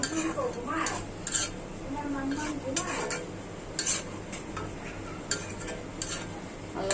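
Onion and dried fish are sautéed together in a pan with a soft steady sizzle, while a spoon stirs and scrapes against the metal in repeated clinks.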